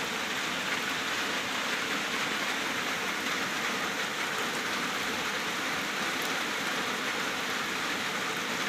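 Steady rain falling, a dense continuous hiss of drops pattering on surfaces, even and unbroken throughout with no voices.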